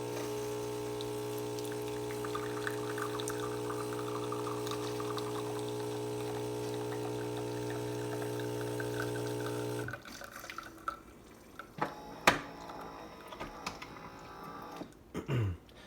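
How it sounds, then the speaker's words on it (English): A Philips 3100 super-automatic espresso machine brewing, its pump droning with a steady hum for about ten seconds before stopping, followed by quieter clicks and clunks of the machine settling. "And I'll start brewing the espresso."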